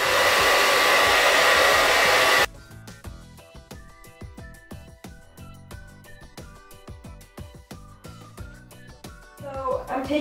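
A hair dryer with a full barrel attachment blowing on the cool setting at high speed, a loud steady rush for about two and a half seconds before cutting off, followed by music.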